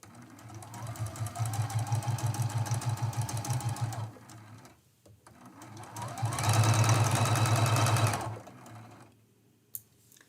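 A sewing machine stitches quilt binding in two bursts of fast, even mechanical chatter, with a short pause between them and a quiet gap and single click at the end; close and fairly loud, with no speech.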